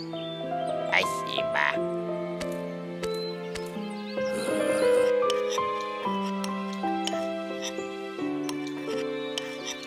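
Cartoon toad croaks amid a busy musical score, the croaks blending with bright tonal music and effects; no speech is heard.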